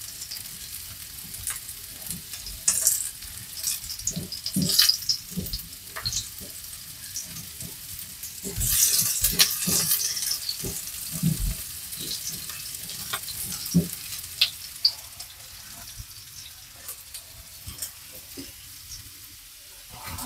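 Cooked baby potatoes pan-frying until golden, with crackling sizzle and frequent clattering as they are turned and stirred in the pan, louder bursts in the middle.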